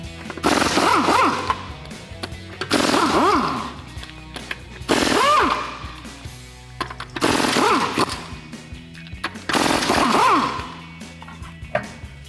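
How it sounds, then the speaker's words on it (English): An air impact gun spins off 22 mm factory lug nuts on a 2008-2023 Dodge Challenger, five loud, close bursts of rapid hammering rattle, each lasting about a second and separated by short pauses. "Our factory lug nuts here are 22 millimeters, so I got my impact gun."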